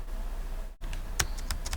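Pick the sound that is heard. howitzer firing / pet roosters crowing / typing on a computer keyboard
typing on a computer keyboard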